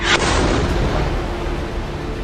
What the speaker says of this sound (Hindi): देखिए, जोरदार धमाका होता है,